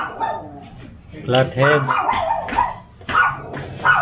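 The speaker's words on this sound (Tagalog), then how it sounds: "Pagkasensya nyo na yung aso." A dog yips and barks in short bursts nearby during a car repair session on an Isuzu MU-X, interleaved with someone talking.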